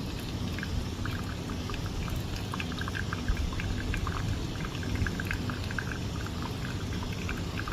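Hot water streams steadily over ground natural-process Ethiopian coffee during a pour-over, a constant close hiss with a light spattering texture and no pauses or talk.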